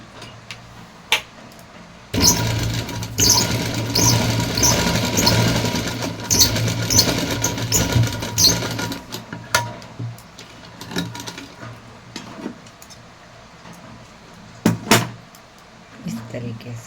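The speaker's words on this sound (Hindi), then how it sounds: "अब यहाँ एक सीधी सिलाई लगा देते हैं।" A sewing machine runs a straight seam on a small Laddu Gopal dress, a steady mechanical whir for several seconds, then quieter handling and clicks while someone talks.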